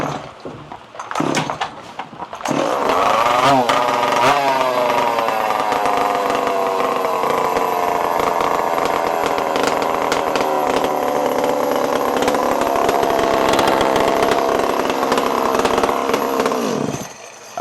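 IronHorse chainsaw fitted with a tuned pipe, choke held down by thumb: a couple of pull-start sputters, then the engine catches and runs loud and steady at high revs for about fifteen seconds before cutting off.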